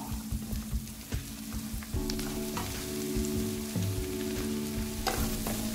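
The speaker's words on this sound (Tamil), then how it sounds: "இன்னும் கூட இது நல்லா கொஞ்சம் ப்ரௌன் கலராக வதங்கணும்" Chilies sauté in oil in a pan for a fish curry, producing a continuous close sizzle with stirring scrapes and a low hum underneath, no speech.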